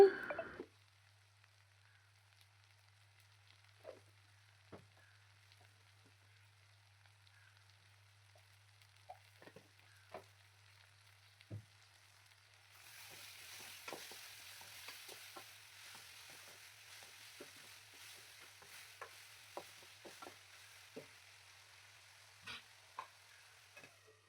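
Ridge gourd and chana dal curry with salt and turmeric cooks in a pan, a faint low hum and soft sizzle under scattered light scrapes and taps of stirring, quiet and close.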